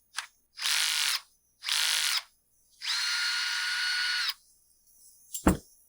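A screw is driven out of a Husqvarna T540iXP chainsaw with a power driver, heard as a short blip and then three whirring bursts, the last one longer and steady, closed by a sharp click, with no talking.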